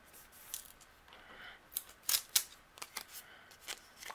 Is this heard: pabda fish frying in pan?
no